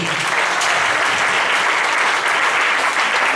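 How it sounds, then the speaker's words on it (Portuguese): Church congregation at an Assembleia de Deus consecration service applauding loudly and densely, a continuous close wash of clapping throughout. "Aplauda o Senhor no nome de Jesus."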